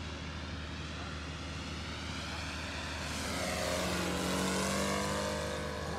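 A 1/5 scale RC Focke-Wulf 190 D9 model plane drones steadily as it flies in to land, its engine swelling slightly louder toward the end, with people talking quietly nearby.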